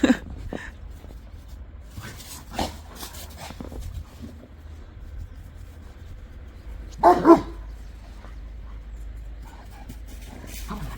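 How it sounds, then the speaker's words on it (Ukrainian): A few dogs bark in short scattered bursts around a winter garden, one louder cluster of barks standing out midway against a quiet outdoor background. "Собаки, як завжди."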